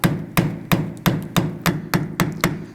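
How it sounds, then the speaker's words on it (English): A flathead screwdriver taps around the edge of a wheel dust cap on a 2008-2011 Ford Focus, giving eight sharp metallic knocks in a steady rhythm, loud and close with no talk. "Our choice is just use a flathead screwdriver and kind of come around the edge, and you want to try and tap this off."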